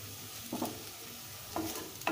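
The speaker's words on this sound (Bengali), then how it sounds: "আমি সবজিগুলোকে এভাবে হালকা করে ভাজবো" Potato, beans and carrot fry lightly in a pan with cumin and coriander powder, a quiet steady sizzle broken by three short scraping stirs.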